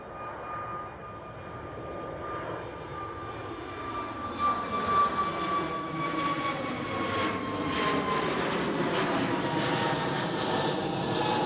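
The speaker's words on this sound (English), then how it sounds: "There goes the KLM A321 Neo." A KLM Airbus A321neo jet passes at Schiphol, its engine roar building into a loud, steady rush with a high whine and shifting tones as it goes by, no voices over it.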